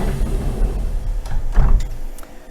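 The door of an ANCA MX7 tool grinder sliding shut in a machine shop, a rolling mechanical rumble with a few clunks and a firmer knock partway through, fairly close and loud, with no speech.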